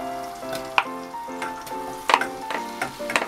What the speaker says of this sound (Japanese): はい、バターが溶けたらね、お肉をまず炒めますね。